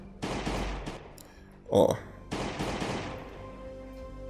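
Gunfire in the survival game Last Day on Earth, a short burst of shots heard midway between bursts of energetic talk from a player.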